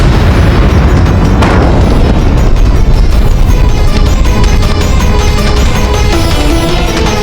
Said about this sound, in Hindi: बरसाते रहो तोपों से गोले, जल्द ही हम चित्तौड़ के किले पर हमला बोलेंगे।